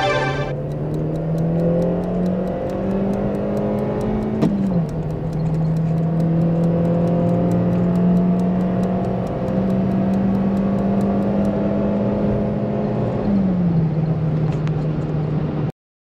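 From inside a 2006 Peugeot 307 1.6 16-valve petrol hatchback with manual gearbox on the road, a steady engine drone holds and climbs, dipping at two gear changes, with faint road and wind noise.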